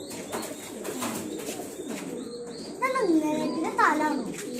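Pigeons coo softly nearby in a loft in low burbling calls, mixed with a person's voice and some background chatter.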